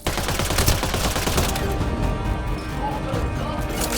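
Sniper rifle gunfire in the sci-fi shooter game Mass Effect Andromeda, sharp loud cracks up front with a dense clatter of combat noise continuing throughout.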